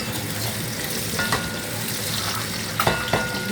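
Chopped onions fry in oil in a new cooking pot, giving a loud, continuous sizzle heard up close, with a few brief clinks of a utensil against the pot.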